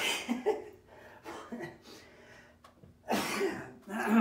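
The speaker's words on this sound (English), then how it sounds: "I sneezed." A single sharp sneeze-like burst, close and fairly loud, among a few short coughs and throat noises with quiet pauses between.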